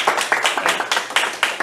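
A small group clapping to welcome a guest lecturer at an educational session, a few people giving brisk, uneven claps in a short close burst without voices.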